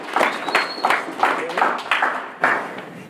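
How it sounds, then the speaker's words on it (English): A small group claps in a podcast studio, with about eight separate bursts of clapping spaced evenly apart, fairly close and loud, and a voice faintly under them. "Clap it up one time for yourself."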